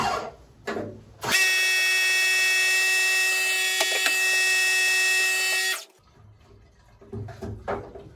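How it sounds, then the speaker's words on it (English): A power washer hisses loud and steady against a screen printing screen for about four and a half seconds, with faint handling sounds before and after. "We're gonna power wash this now."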